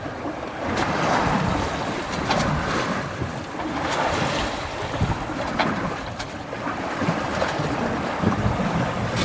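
A small boat rides through rough seas off North Wales with the wind behind it: a steady rush of wind and water, with irregular sloshing and thumping of waves against the hull, close and continuous.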